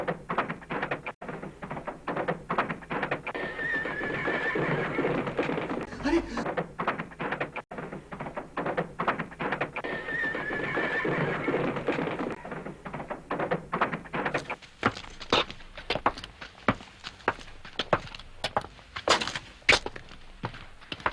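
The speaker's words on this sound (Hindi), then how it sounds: "ये तो घोड़े के टापों की आवाज है।" Horses galloping in an animated Ali Baba and the Forty Thieves children's tale, bandits approaching: continuous rapid clip-clop hoofbeats with a couple of drawn-out cries in between, fairly close.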